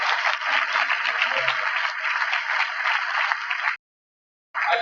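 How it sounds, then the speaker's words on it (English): A rally crowd gives a round of applause for helpers at a Kentucky Right to Life event, an even, sustained clapping wash that cuts off abruptly near the end and then briefly resumes. "just a round of applause for all those that have helped"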